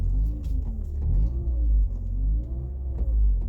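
A car engine idles and revs steadily up close, a deep rumbling drone that rises and falls in gentle waves.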